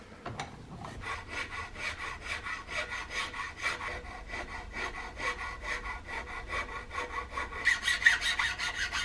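Steady back-and-forth rasping of a file on wood, cleaning up the lock mortise in a CVA Hawken rifle stock; close, rhythmic strokes repeating at a brisk, even pace with no talk.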